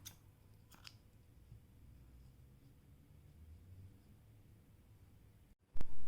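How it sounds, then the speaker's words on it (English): Scissors snip crochet yarn after a puff flower is finished: two quick, faint cuts close by near the start over quiet room tone, then a sudden loud bump at the end. "Chain 1 and cut your yarn."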